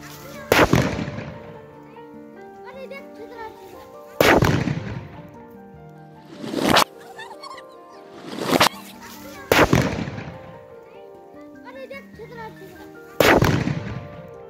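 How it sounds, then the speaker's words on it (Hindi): A revived dud sutli firecracker bomb goes off with loud, sharp explosive bangs, several blasts spaced a few seconds apart, each with a ringing tail and debris settling after. "एक फुस बम को हमने चलाया और वो नए बम से भी तेज आवाज में फूटा"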